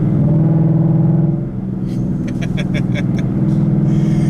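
A 2015 Ford Mustang GT cruises through a neighborhood, its exhaust giving off a steady, deep low rumble that stays loud and close throughout, with voices talking over it.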